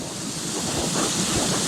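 Rushing water from the waterfall at the top of Cautley Spout, a steady broadband roar with gusts of wind buffeting the microphone, continuous and fairly loud with no voices.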